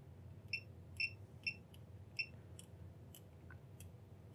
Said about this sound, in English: So I'm just going to change this into continuity beeper on.